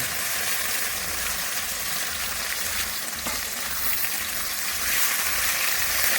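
Fish frying in hot oil on a home stove gives a steady, loud, dense sizzle with no pauses, holding a level hiss across the whole stretch and swelling slightly near the end.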